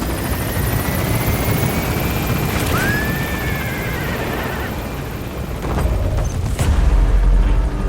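A helicopter in Metal Gear Solid V lifting off from a hot zone, its loud, dense rotor roar steady throughout and swelling near the end, with a brief whine and some effects layered over it.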